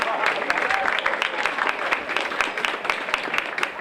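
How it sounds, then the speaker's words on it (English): A school audience applauds two police officers at a responsible-driving assembly, a moderately distant, steady round of clapping that continues throughout. "give a warm round of applause to Detective Tara and Officer Lamont"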